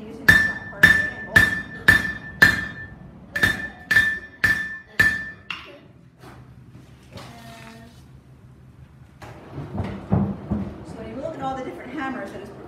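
A blacksmith at a museum demonstration hammers hot steel on the anvil horn while forging a leaf finial wall hook, giving a run of about ten sharp ringing metallic strikes in steady rhythm, then quieter clinks as someone talks.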